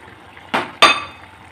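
Fried shing fish pieces drop into a boiling potato and pointed-gourd curry, giving two quick wet splashing clinks about a quarter second apart, close and alone over a quiet kitchen background.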